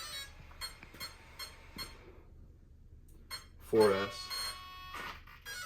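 An electronic speed control on a Traxxas XMaxx RC truck with no radio signal gives a series of short, evenly spaced beeps, close and clear. A brief voice and a louder clunk follow.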